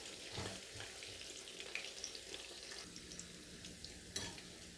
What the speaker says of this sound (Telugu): మీడియం ఫ్లేమ్ లోనే ఫ్రై చేసుకోవాలండి